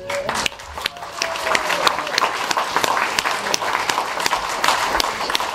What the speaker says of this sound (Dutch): echt een onwijs hartelijk groot applaus voor dit team